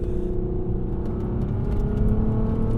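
A Volkswagen Mk4 Golf R32 engine hums steadily at a low idle-like drone, smooth and fairly quiet, with no voices.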